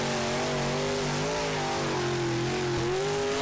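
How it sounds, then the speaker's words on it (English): Race cars at Iceville Raceway, an ice racing track, throttle up during a practice session; loud engine drones rise and fall in pitch together, steady and fairly close, with a brief surge near the end. "Session number 1 for Group B is throttling up here."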